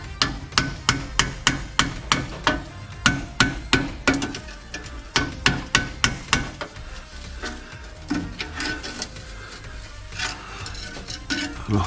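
Rapid, loud metal-on-metal hammer blows strike badly rusted parts underneath a Volkswagen Golf 4, landing in quick bursts of several hits, with pauses and lighter knocks between the bursts.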